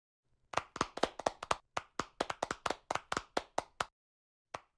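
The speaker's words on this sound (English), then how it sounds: "a warm round of applause for Mr." Clapping at a French-German-Japanese artificial intelligence symposium as the French ambassador-designate to Japan is introduced. It comes as a sparse run of distinct, close hand claps that stops near the end, followed by one last clap.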